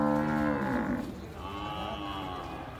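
A dairy cow with very large horns lets out a loud, close moo of about a second that drops into a lower, drawn-out groan, with no talk over it.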